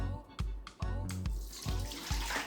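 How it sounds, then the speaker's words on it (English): Boiled sorrel drink is strained, with liquid splashing and pouring in a few short bursts and a quick trickle, close and fairly quiet. "I'm gonna go ahead and start straining it."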